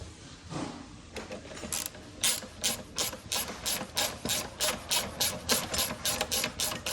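A ratchet wrench tightens the side bolts on an Aeron office chair height mechanism, its close, rapid clicking repeating in regular strokes that grow steadier and louder as the work goes on.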